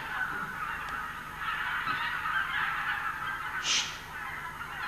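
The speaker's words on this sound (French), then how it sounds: "Les oies sauvages, tu les entends?" Wild geese flying south from Canada honk repeatedly over a steady hiss, the calls overlapping in a loose flock chorus at moderate distance, with one sharper, nearer honk standing out near the end; no one speaks.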